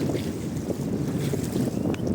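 Steady wind blowing at a warm, clear-water beach in Salinópolis, a continuous rushing buzz of gusts across the microphone, loud and close with no talk.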